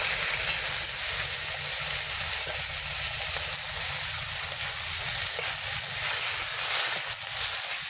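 Onions with cumin, chilli and ginger fry in hot oil with a dense, even sizzle that holds close and steady throughout, no voices over it.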